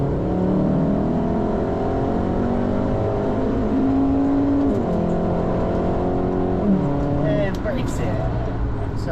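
A car at full throttle on the Nürburgring Nordschleife during a trackday lap, its engine climbing steadily through the revs with gear-change dips, loud and continuous from inside the cabin, with a driver talking over it.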